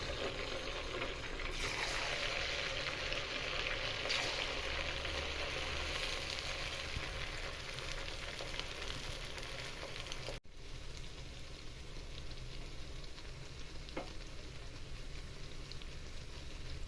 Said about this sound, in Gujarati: તેલ પણ મૂકી દીધું છે હવે તેલની અંદર એડ કરીશું